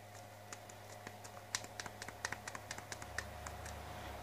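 Fingers tapping out a username on a satellite receiver setup keyboard, a steady run of light, close key clicks over a low electrical hum, with no talking.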